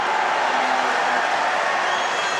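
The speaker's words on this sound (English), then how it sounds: "It was as though they applauded the referee for letting it go." Judo crowd applauding the referee at the World Judo Championships, a steady, broad wash of clapping and crowd noise filling the arena throughout, fairly distant and unbroken.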